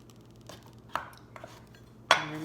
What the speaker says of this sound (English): I'm going to finish chopping all this up